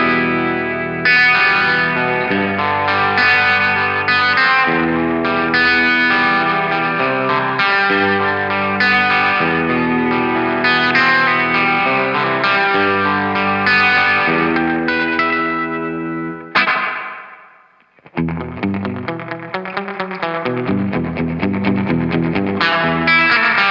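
Electric guitar chords played through an Eastwood Dusty Spring reverb pedal ring out with a washy, splashy reverb tail, sustaining for long stretches, then briefly dropping out before resuming with sparser, echoing notes.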